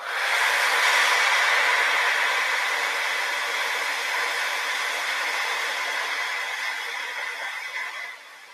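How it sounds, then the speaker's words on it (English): A steady blowing whoosh of a hair dryer, used to set mascara, runs close by for several seconds, then drops off near the end. "Setting the mascara with your hair dryer is just such a huge trick."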